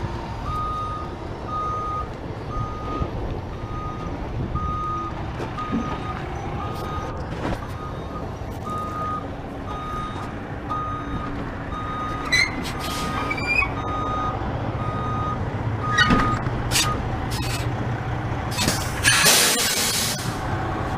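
A truck and trailer reversing during backing practice, its backup alarm beeping steadily and evenly throughout over a low idling engine rumble, with brief hisses and clatter near the end.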